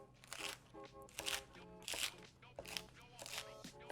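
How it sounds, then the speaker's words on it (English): Knife chopping through a Caesar chicken salad gives a run of crisp, crunchy cuts in irregular bursts, close and fairly quiet, with a voice speaking briefly between them. "You hear that crunch?"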